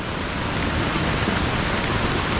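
Heavy rain pours down during a flood, a thick, steady hiss of drops pelting surfaces close by, with no pauses and no voices.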